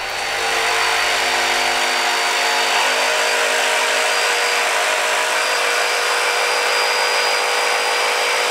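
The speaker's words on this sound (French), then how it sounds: "Je dégage ces renforcements d'épaulement avec la scie sauteuse, tout simplement." A jigsaw buzzes steadily and loudly through wood, a continuous close-up cutting whine with no pauses.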